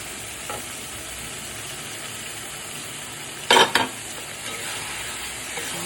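Katla fish pieces fry with spices in a hot pan, a loud, steady hissing sizzle throughout, broken near the middle by a brief burst of clattering as the pan or utensil is knocked.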